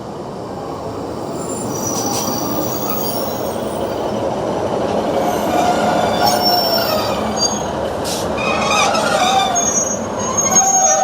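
A Northern passenger train pulls into a station on the Stockton and Darlington line, its wheels squealing and flanges grinding against the rails, a loud, sustained rumble that swells as it draws nearer.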